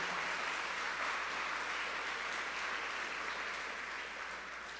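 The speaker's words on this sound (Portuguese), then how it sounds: "dê um aplauso bem forte ao Senhor, em nome de Jesus" A church congregation applauds loudly and steadily during a worship celebration service, a dense continuous clapping that fades slightly toward the end.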